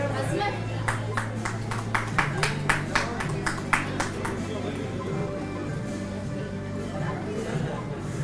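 Scattered hand clapping from an audience at an award ceremony, a run of sharp claps rising and then thinning out over a steady hum of crowd noise and a voice speaking.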